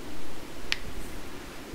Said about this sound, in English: If you hear that little bicycle bell, that is the sound of the trim.